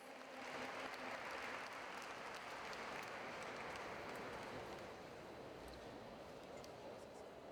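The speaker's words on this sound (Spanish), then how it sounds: "Muchísimas gracias a todos y un aplauso a ustedes." Audience applause at an urban parks congress in Monterrey, a dense, even wash of clapping sustained for several seconds, heard from a distance at moderate level.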